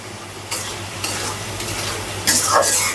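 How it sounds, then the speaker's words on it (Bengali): Fish added to a pan and sautéed with spices such as cumin and coriander powder, loud close sizzling with bursts of stirring and a sharp surge of frying near the end. "মাছগুলো আমি এখন দিয়ে দেব মশলার সঙ্গে কষিয়ে নেব মাছগুলো দিয়ে"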